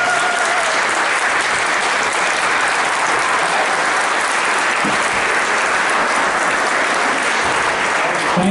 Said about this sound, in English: would you please stand so everybody can give you a hearty round of applause